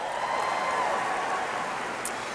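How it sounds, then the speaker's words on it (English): Audience applause at a 2010 business seminar speech, a steady, even wash of many hands clapping that sounds fairly distant and soft, holding for a couple of seconds without a clear start or finish. "Let's give them a round of applause."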